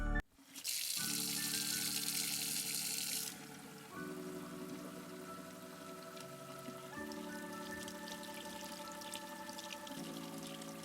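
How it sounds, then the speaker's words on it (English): Water poured gently from a small container onto freshly sown seeds in organic potting soil, a soft continuous trickling stream, quiet and close, after a brief hiss at the start. "Pour some water gently now"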